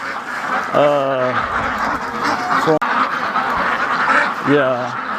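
Free-range ducks quack loudly and close by on a large duck farm during feeding time, sounding in repeated bursts of several honking calls over a busy flock background, with someone talking throughout.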